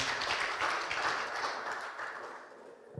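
A church congregation claps and applauds together for a few seconds during a Sunday Hindi service, a dense wash of clapping that gradually fades.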